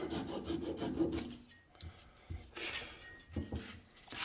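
A handmade flush trim saw cuts a wooden dowel flush with a surface, giving quick rasping strokes in short bursts with brief pauses between them, close and clear.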